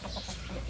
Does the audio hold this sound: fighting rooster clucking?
yes